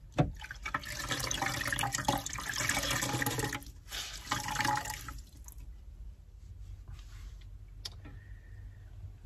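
Water splashing and sloshing close by for several seconds as a washcloth is dunked in a pan of warm water inside a minivan camper and wrung, then quieter drips and trickles.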